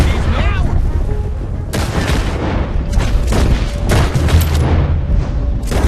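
Repeated gunshots from a Red Dead Redemption 2 shootout, loud and dense with booming reports and cracks coming in bursts throughout, over continuous background noise, with voices calling out between shots.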